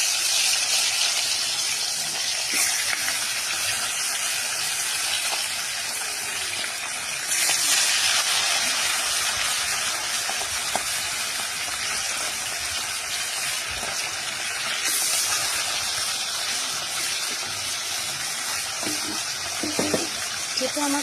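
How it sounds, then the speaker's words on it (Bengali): Fish slipped one by one into hot oil in a small wok fry with a steady, moderate hiss and spatter, swelling briefly louder as each piece goes in. "তো এই যে আমি এক এক করে মাছগুলো ছেড়ে দিচ্ছি।"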